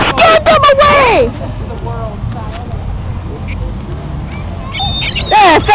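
Geese honk in bursts at the start and the end, loud and nearby, with quieter honks and outdoor background noise in between; a person's voice may be mixed in.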